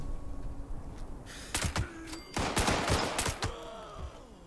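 Gunfire in Fallout 76, a rapid cluster of sharp, loud shots in quick bursts over roughly two seconds, followed by ringing metallic tails and a quieter low game ambience.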